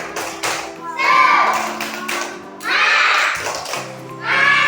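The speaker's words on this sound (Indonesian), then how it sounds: "Tepuk semangat." A classroom of children does a rhythmic spirit clap led by their teacher. Patterns of claps and taps arrive in short bursts, and the children's voices chant along in between, close and lively.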